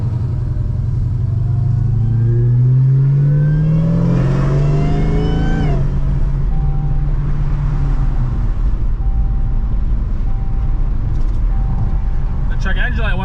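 A Chrysler 300 with a Hellephant engine, freshly tuned, drives and revs hard, its deep exhaust note climbing through a loud acceleration, dropping back, then settling into a steady rumbling cruise.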